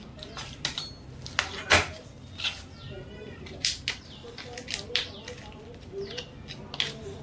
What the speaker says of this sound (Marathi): ते बघा हे चमच्याने सगळं कौट काढून घेते